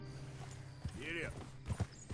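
A horse in Red Dead Redemption 2 on PS4 gives a short rising whinny in the middle, followed by a few close hoof thuds, with a low background hum throughout.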